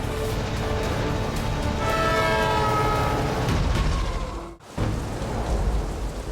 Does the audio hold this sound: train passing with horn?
yes